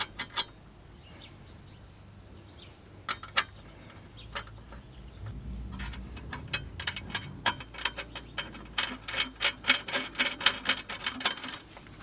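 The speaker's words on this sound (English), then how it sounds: "With the 13mm socket, we're going to tighten up the bolts." Ratchet with a 13mm socket tightening M8 bolts on a Jeep JL tire carrier, heard as a fast string of close metallic clicks that grows louder and more rapid toward the end.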